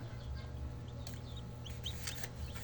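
Soft clucking from chickens indoors near a cat, a few short calls scattered over a low steady hum, fairly faint.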